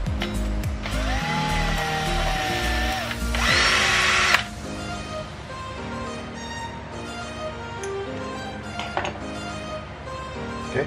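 A power drill with a 2.5 mm bit enlarges a hole in a model RC crawler kit part, whining and grinding steadily, loud and close, with a brief higher-pitched burst partway through, then continued metallic rattling and mechanical noise.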